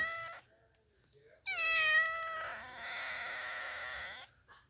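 A trapped civet (musang) cries out in loud, drawn-out cat-like wails, two long harmonic calls close by with a brief shorter one before, over a quiet outdoor background.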